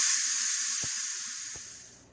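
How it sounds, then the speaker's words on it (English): Steam hissing out of a pressure cooker's release valve while cooking pasta, a loud continuous close hiss that tapers off slightly toward the end, with no talk. "letting the steam out, and usually it takes it about a minute or so"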